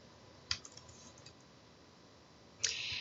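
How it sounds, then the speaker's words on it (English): Computer mouse clicks in a quiet room while laying out a Visio 2016 org chart, a sharp click near the start followed by a few faint taps, then a brighter burst of clicking and keyboard typing at the end. "double click on that page 4 and type in VP2"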